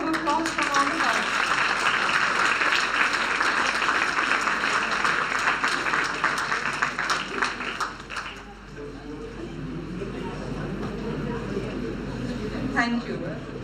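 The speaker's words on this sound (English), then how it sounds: "I think she deserves a round of applause from all of us." Audience applause for a prize winner at an exhibition inauguration, dense clapping for about eight seconds before fading into quieter room noise and a few scattered claps.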